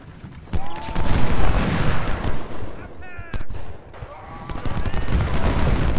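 Battlefield cannon booms and rifle volleys from the Civil War strategy game Ultimate General, loud and repeated in uneven bursts, with someone speaking German over the firing.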